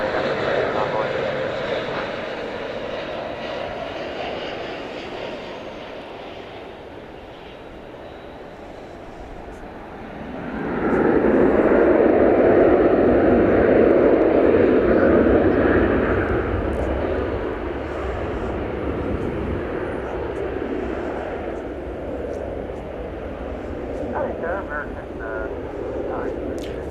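An Envoy regional jet taking off at DFW Airport, a broad engine roar that swells to a loud peak, then slowly fades as the aircraft climbs away, with radio chatter heard alongside.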